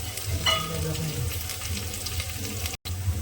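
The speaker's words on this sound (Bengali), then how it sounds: "প্রথমে কিন্তু আমি রসুনটা তেলের মধ্যে দিলাম এই রসুনটাকে আগে একটুখানি তেলের মধ্যে লাল করে ভেজে নেব" Chopped garlic sizzles and fries in hot oil in a home kitchen while being browned for chili chicken, a steady close crackle with brief clinks and one short dropout near the end.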